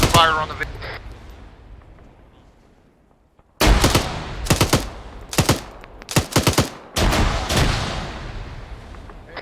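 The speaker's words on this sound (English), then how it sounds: "Taking, break, taking direct fire on the vehicle." Video game gunfire striking a vehicle: loud close bursts of automatic fire and impacts in rapid clusters, with a talking voice early on.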